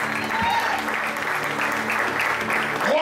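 Congregation clapping in a church service, a dense steady patter of many hands under a low hum and faint voices, continuous for the whole stretch.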